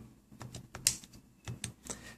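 Soft clicking presses on calculator buttons as the device is switched on, a handful of quiet, irregular taps heard up close with little else around them.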